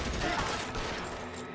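Tommy gun fire in the L.A. Noire video game, a dense burst of rapid automatic shots rattling loudly at the start and trailing off over about a second and a half, with no talk.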